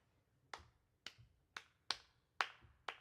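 Clapping along to a beat at a performance by a Mexican-American artist: six sharp, isolated claps spaced about half a second apart, fairly faint with quiet gaps between them.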